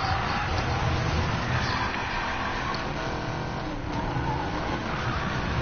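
Race cars roar through a Need for Speed Payback event, a Barracuda running against Porsches and BMWs, with a dense, continuous engine drone and occasional tire squeal held at a steady loud level throughout.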